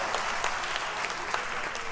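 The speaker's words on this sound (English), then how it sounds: "we can get applause for that" A studio audience applauds during a talk show episode, a dense, steady patter of many hands clapping at moderate volume, continuous and slightly distant, with no voices over it.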